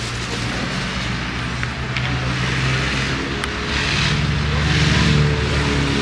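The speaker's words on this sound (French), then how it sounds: "Il y a grave de la circulation, c'est incroyable." Heavy road traffic near Lac du Bourget produces a loud, continuous rumble of car engines and tyres that swells slightly toward the end, with no voices over it.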